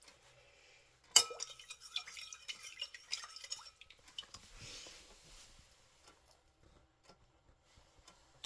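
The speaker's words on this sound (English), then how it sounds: "Stir it till it's totally dissolved and you don't see any crystals floating around." Citric acid is stirred into water until it dissolves, with a spoon clinking and scraping softly against the container in quick, faint taps for a few seconds, close and quiet.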